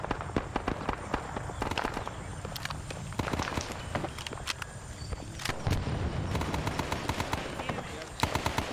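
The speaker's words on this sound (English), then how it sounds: "We are getting hit by artillery." Artillery pounds a video game battlefield in a hand-to-hand fight on Hamburger Hill. Dense bursts of explosions and gunfire crackle continuously at close range, with voices over the combat.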